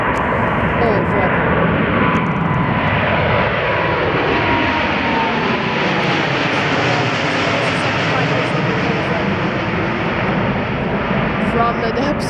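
A Saudi Arabian Airlines jet airliner in 75th-anniversary livery takes off from Toronto Pearson (YYZ), its engines a loud, steady, broadband roar with a slowly shifting whine throughout, while voices talk over it.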